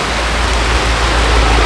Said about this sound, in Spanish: Realmente está lloviendo recio, miren.